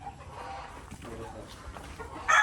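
Chickens on a small farm, one rooster and two hens, cluck in short irregular calls under steady background noise, with a louder squawk near the end.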